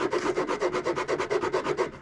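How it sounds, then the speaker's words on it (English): Sanding a wooden scarf joint on a bilge stringer during boatbuilding, a brisk, close rhythm of rough rasping strokes, about eight per second, loud and continuous with no voice. "So mostly I'm sanding just to make sure"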